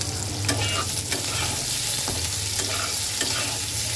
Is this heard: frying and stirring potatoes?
yes